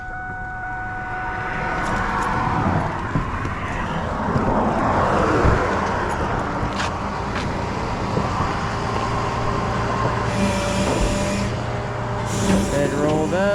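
A truck with a flat tire, crawling in its lowest forward gear during rush hour, gives a steady loud engine drone over roadway noise, with brief hissing bursts that sound like air brakes.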